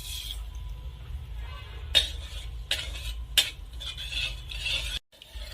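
Sugar being stirred into hot oil in a pan over a low gas flame, with a steady soft sizzle, scraping strokes and a few clinks of the spoon against the pan, no voices.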